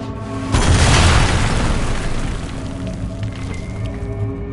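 A loud, deep explosion from a weapon breaking through a magical barrier in the game Dragon Age: Inquisition, bursting suddenly and then rumbling away into a long, fading tail.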